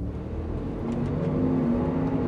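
A 2022 Range Rover with a BMW-sourced 4.4-litre V8 accelerates, its engine note steadily rising in pitch under a continuous road and cabin hum heard from inside the vehicle.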